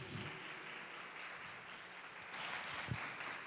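Faint applause from a church congregation welcoming the preacher at a service, a steady wash of clapping lasting a few seconds with no voices over it.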